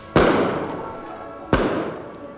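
Two loud, sharp firework blasts about a second and a half apart, each ringing out and decaying slowly, set off in daylight during Spanish Holy Week celebrations.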